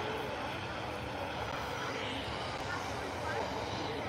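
Distant roar of a Ryanair passenger airplane at an airport, a steady broadband drone holding throughout with a slight swell near the end, under faint background chatter.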